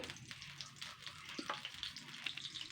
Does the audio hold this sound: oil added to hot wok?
yes